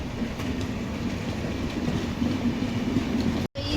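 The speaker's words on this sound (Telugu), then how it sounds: "వాడకన్ చెర్రీ రైల్వే స్టేషన్ నుంచి మన ట్రైన్ స్టార్ట్ అయిపోయింది." Sabari Express train pulling away from Vadakkanchery railway station, a steady rumbling rail roar with a low hum that holds throughout, then breaks off abruptly in a brief dropout near the end.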